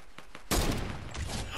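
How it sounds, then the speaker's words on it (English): A single loud gunshot in a shooter video game cracks sharply after a faint lead-in, followed by a dense, sustained burst of noisy reverberant gunfire texture. "I shot in the air!"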